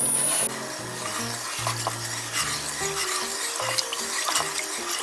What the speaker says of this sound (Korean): 센 불에서 저어주면서 이렇게 끓여주세요.